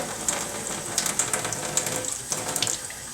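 A kitchen tap runs steadily over glass jars of home-canned potatoes being washed, with water splashing and small clinks bursting over the continuous flow.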